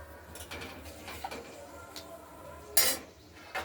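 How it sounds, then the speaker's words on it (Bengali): Spice paste for a katla fish curry with flat beans, potatoes and tomato is sautéed over medium heat, heard as quiet scattered scrapes and clinks of a spoon against the pan over a faint background hum. "এবার ধীরে ধীরে আমরা মাঝারি আঁচ দিয়ে মশলাটা কষিয়ে নেব"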